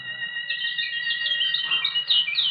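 Birdsong in a 1949 radio drama, continuous bright chirping and trilling tweets in a clear, fairly loud stream with no talking over it.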